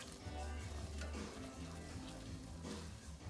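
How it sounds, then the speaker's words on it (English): A whisk works a roux for gumbo in a pot, giving a steady, close sizzling and scraping stir that runs continuously with no talking. "Keep whisking."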